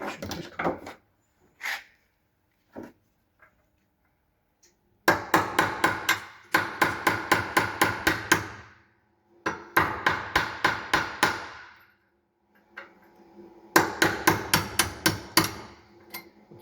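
Old fins on a Merseyrail Class 502 train under restoration are knocked out with a hammer and an old screwdriver: sharp metallic blows in rapid volleys of about six to eight strikes, separated by pauses, close and loud.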